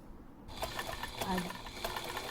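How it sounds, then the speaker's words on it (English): A sewing machine stitches along a curved line in fabric, giving a continuous, close mechanical whir with faint ticking throughout the short stretch. "then you start stitching"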